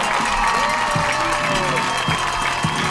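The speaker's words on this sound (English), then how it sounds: "They got quite a crowd here tonight." A large crowd cheers and claps in the stands at a high school football game under the lights, a dense, steady roar with rhythmic thumps and a voice talking over it.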